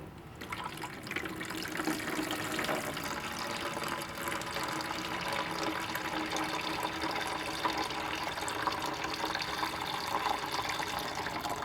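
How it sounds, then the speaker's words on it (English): A steady, rushing pour of settled black liquid sludge being decanted off the top of a container while recovering gold from BGA IC chip corners, continuous and fairly close, with no talking. "gonna pour off this black nasty goo, see what we got in the bottom"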